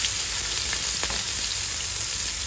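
Onion and ginger fry in hot oil in a pan, a steady close sizzle with faint crackles and a few soft stirring clicks, no voices.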